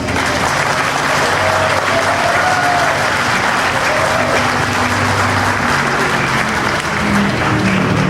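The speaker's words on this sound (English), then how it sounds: "Let's have a nice round of applause for Cotton Owens." A racetrack crowd at a Darlington legends event gives a sustained round of applause for Cotton Owens, broad and even, continuous throughout without pause.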